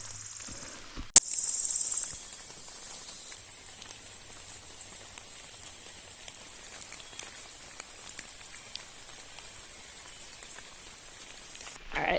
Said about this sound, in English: It's still raining a bit, but I'm not getting soaked.